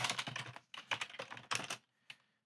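Close, rapid clatter of typing on a computer keyboard while code is entered, in three quick bursts and then a single last keystroke before silence.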